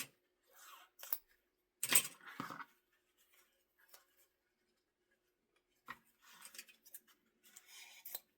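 Scissors snip through ribbon in a quiet room, a few short, sharp cuts and light rustling handling separated by pauses of near silence.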